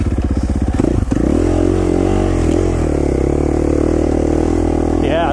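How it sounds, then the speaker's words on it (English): A dirt bike engine revving and droning loudly while riding a single track trail in Idaho, steady and close with clatter and rattling over rough ground. "this bike is much better behaved now for the single track type riding"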